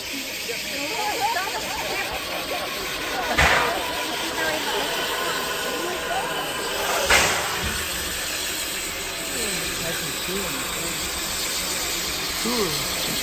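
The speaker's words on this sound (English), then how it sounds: "This is the engine of the locomotive train. Cool. It's run by steam engine, and it needs coal," A coal-fired steam locomotive engine gives off a continuous broad hiss of steam, with two brief stronger bursts, while people talk over it outdoors.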